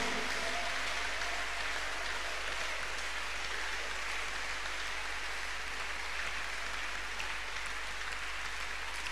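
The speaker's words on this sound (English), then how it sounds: "Clap your hands unto God." A congregation at a Tuesday miracle church service claps hands, a steady, rain-like wash of many hands heard from a distance at moderate level, continuous throughout with a low hum beneath.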